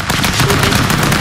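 Loud, dense rapid gunfire from the stick-figure brawler video game Stick Fight bursts continuously in quick succession, a harsh automatic rattle filling the moment with no voices.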